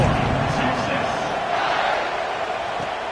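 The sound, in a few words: crowd buzzing in a college football video game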